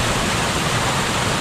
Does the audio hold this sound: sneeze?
no